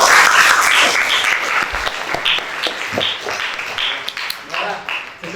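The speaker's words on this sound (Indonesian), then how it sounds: "Tepuk tangan buat kalian semua." A classroom audience claps in a burst of applause that tapers off over several seconds, with scattered individual claps near the end.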